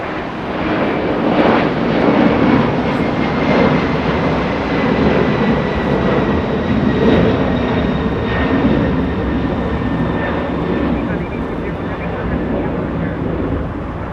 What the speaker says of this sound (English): As we have a freighter 767 getting a move on.